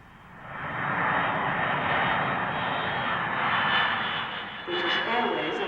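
A British Airways jet airliner's engines roar steadily with a broad, loud whooshing rush, swelling after the first second and holding with slight dips toward the end, heard from nearby.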